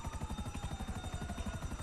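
Helicopter in the video game GTA V during a heist mission, its rotor thumping in rapid, regular pulses with a steady engine whine over the top, close and loud.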